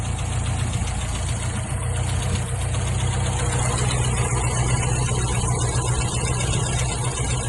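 A car engine idles steadily at tick over, fed by an AC glass bowl diaphragm fuel pump, a continuous low rumble with a fine knocking texture, close and unchanging throughout.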